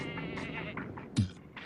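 Goat bleating, a run of wavering, nasal cries in quick succession, close and fairly loud, with a sharper bleat near the end.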